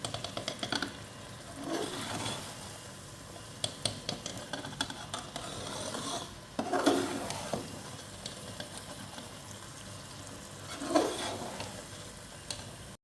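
Chicken chana handi is stirred in a pot over a soft, steady sizzle, with a few scraping sweeps of the spoon spaced several seconds apart, fairly quiet and close.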